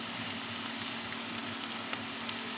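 Chopped onions frying in oil in a pan give a steady, dense sizzle with fine crackles throughout, close and even in level.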